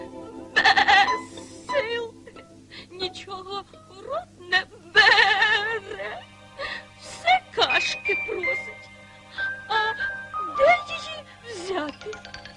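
Several sheep bleats, quavering and plaintive, mixed with a child's and adult's voices speaking and mimicking animal cries; a faint jingle in the background.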